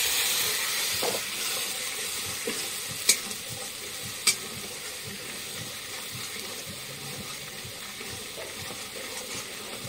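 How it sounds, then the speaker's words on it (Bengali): Ground spice paste with a drop of turmeric frying in a pan for a vegetarian paneer dish, giving a steady close sizzle with faint stirring scrapes and two sharp clicks partway through. "বাটা মশলাগুলো ছেড়ে দেবো, আর তার সঙ্গে সামান্য এক ফোঁটা হলুদ দিয়ে দিয়েছি।"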